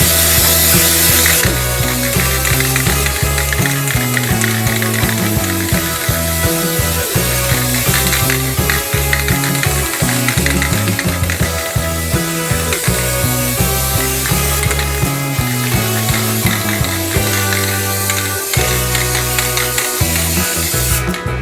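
A nearly empty spray can hisses and sputters unevenly in bursts, loud and close, with a rattling, ratchety rhythm.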